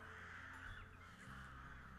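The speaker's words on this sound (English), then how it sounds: "then you'll hear the swarm of ravens come flying in" Ravens caw in a dense, overlapping swarm as they come flying in, a game sound effect played at a raven crest shield. The harsh calls sound loud and close, and they fill the full two seconds.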